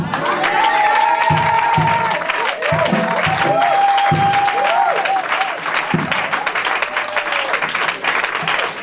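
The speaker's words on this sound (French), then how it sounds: "applaudissez encore pour lui" A crowd at a Christian book presentation applauds loudly and continuously, with cheers and raised voices rising over the dense clapping.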